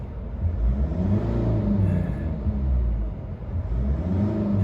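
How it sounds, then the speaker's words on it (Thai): A 2019 Mitsubishi Triton engine revs under heavy throttle, a steady loud low rumble and drone that swells and eases slightly, heard close without talk. "เหยียบคันเร่งเยอะๆหน่อยนะครับ กระแทกหน่อย นะครับไล่รอบค่อนข้างเร็ว"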